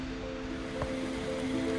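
Clear water of Horton Spring creek in Arizona flowing steadily, a soft continuous wash close by with a faint hum in the background.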